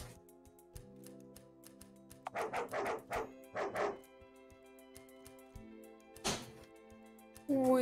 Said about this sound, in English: It's his doggo.